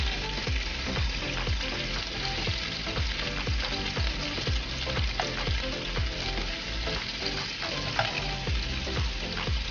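Onions frying in a pan for hotdog steak, a loud continuous sizzle with rhythmic scraping stirs repeating about every half second throughout.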